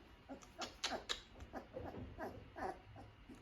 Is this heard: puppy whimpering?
yes